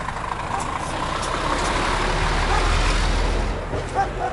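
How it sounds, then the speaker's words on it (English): A truck slows to turn into a warehouse, a steady low engine rumble nearby that deepens and swells briefly before easing off, with no talking. "Why is this truck slowing down? Oh, he's turning inside of this warehouse kind of thing."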